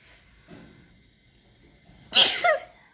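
One loud, close human sneeze bursts out after a soft intake of breath.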